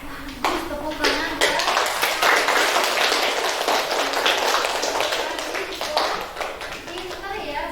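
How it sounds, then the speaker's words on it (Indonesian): Children in a primary school classroom clap their hands together in a burst of dense, steady applause that fades toward the end, with a voice faintly mixed in. "Bagus, tepuk tangan."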